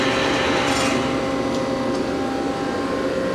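Hardinge Conquest T-42 big bore CNC slant bed lathe running its live tool at around 2,000 RPM, a steady dense mechanical whir with constant loudness and no talking.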